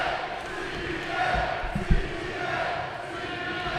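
A crowd at a live professional wrestling show gives off a steady roar of cheering and shouting from an arena, with a brief thud partway through.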